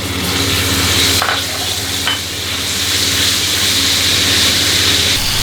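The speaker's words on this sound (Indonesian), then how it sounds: "Kita masukin bumbunya, kita tumis." Spice paste sautéing in hot oil for spicy seblak, a steady close sizzle and hiss with a few stirring scrapes, no talking over it.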